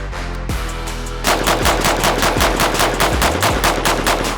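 Automatic gunfire from a weapon in a video game: after a short lead-in, a loud, sustained burst of rapid, evenly spaced shots rattles on to the end with no talking.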